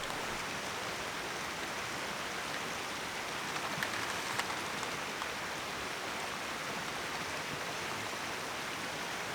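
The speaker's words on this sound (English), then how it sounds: "Hopefully it's just a quick shower" Steady rain shower falls at a campsite in southern Colorado, an even, dense hiss of drops on surfaces with a few faint patters, continuous and without voices.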